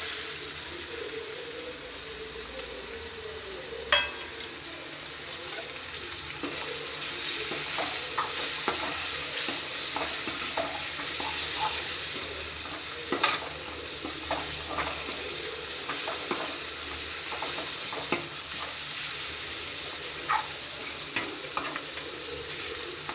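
Chicken pieces fry and sizzle steadily in a pan for a chicken curry, with a spoon stirring and scraping now and then and a few louder clinks along the way; no one speaks.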